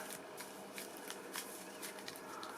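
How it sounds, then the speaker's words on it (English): Character cards from a reading-challenge board game being quickly shuffled, a soft continuous riffle of papery flicks and slaps, faint and close, with no talking. "And just a quick little shuffle."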